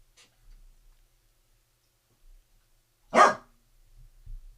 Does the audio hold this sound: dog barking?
yes